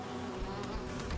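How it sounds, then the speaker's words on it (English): Bumblebee-like enemy buzzing in the video game Hollow Knight, a steady droning hum that carries on without a break at moderate loudness, with no talking over it. "I'd say that's a bumblebee, if anything."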